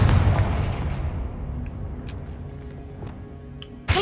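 The Confringo fire spell from the Hogwarts Legacy video game lands as a loud fiery blast at the start and fades into a rumbling tail, followed by a sharp crack near the end.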